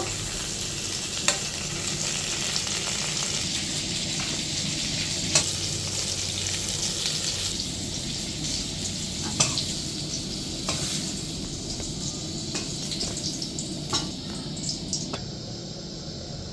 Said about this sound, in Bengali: পটলগুলো আমার খুব সুন্দর লাল লাল করে ভাজা হয়ে গেছে